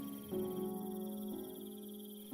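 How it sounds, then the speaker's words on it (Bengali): Night crickets near a lone rural house by a bamboo fence and fireflies over the bushes, a steady, unbroken high trill held at low level throughout, layered over a soft sustained low drone, with no voices. "ঝিঁঝি ছাড়া আর কোনো শব্দ নেই।"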